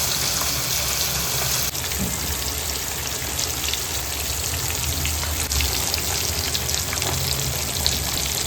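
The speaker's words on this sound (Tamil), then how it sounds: "கீழே வந்து மீனெல்லாம் பொரிக்க ஆரம்பிச்சிட்டோம்." Steady crackling sizzle of fish frying in hot oil, continuous and close, with no voices, during rooftop cooking.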